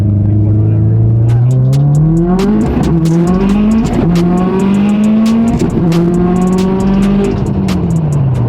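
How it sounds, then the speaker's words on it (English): A 2021 Honda Civic Type R engine revs hard and climbs through gears, pitch rising then dropping at each shift, loud and close with constant roar. "You hit the next gear, the whole car picked itself off the ground."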